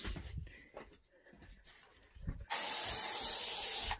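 An aerosol can of fly spray lets out a loud, steady hiss that starts suddenly after some faint rustling and handling noises and runs without a break for about a second and a half.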